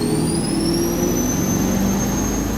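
An 800-horsepower turbocharged 1958 Chevrolet Apache pickup accelerates hard, its engine roaring steadily from inside the cab with a rising turbo whine layered above the drone.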